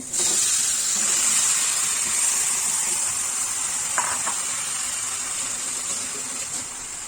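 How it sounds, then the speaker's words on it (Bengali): Marinated chicken added to hot spiced oil for a red Bengali chicken curry, hissing in a loud, steady sizzle that fades slightly over several seconds, with a brief clink partway through. "এখানে আমি ম্যারিনেট করা চিকেনটা অ্যাড করছি।"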